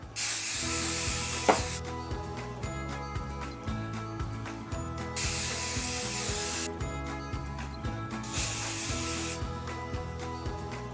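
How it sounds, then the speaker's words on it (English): An aerosol can of spray adhesive hisses onto quilting fabric for a patchwork bag in several long bursts with short gaps between, loud and close over a steady background hum. "good shake and then spray it onto your fabric"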